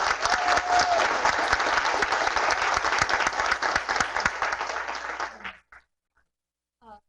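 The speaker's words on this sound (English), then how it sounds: "So can you guys give them a round of applause for being here?" A round of applause from an audience at a Royal Palm Beach education advisory board meeting, dense sustained clapping that tapers off and falls silent near the end, followed by a brief faint sound.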